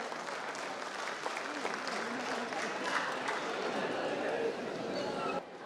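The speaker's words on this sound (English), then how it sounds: "Can we have him on stage with a round of applause, please?" Steady applause from a crowd at an award ceremony fills the room, with a few voices mixed in, before cutting off near the end.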